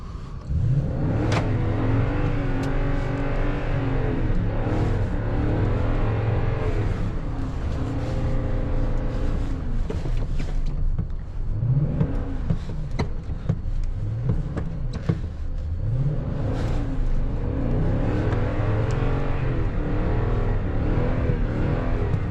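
A four-wheel-drive vehicle drifts on a snowy road, its engine revving loud and steady throughout, with tires and drivetrain droning close up and short surges in pitch as the throttle rises and falls.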